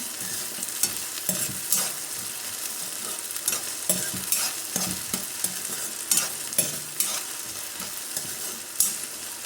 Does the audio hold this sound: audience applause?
no